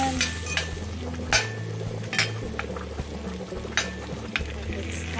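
Garlic steak bites fry in a pan with a steady broadband sizzle, and a few sharp clicks and clatters of utensils come through on top. Low background hum and tonal sounds run underneath throughout.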